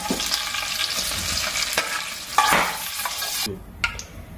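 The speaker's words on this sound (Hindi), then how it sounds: "तेल गर्म हो गया अभी मिर्ची डाल देंगे" Green chillies frying in hot oil for a spicy chicken masala, a loud steady sizzle with stirring scrapes and a few sharp crackles, then the sizzle drops off abruptly near the end.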